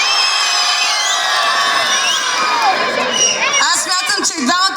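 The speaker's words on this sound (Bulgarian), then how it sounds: "Който е за момчето да вдигне шум сега?" An outdoor festival audience in a town square cheers and shouts loudly for a young performer, a sustained wall of voices and whoops, before a voice starts talking over the fading noise.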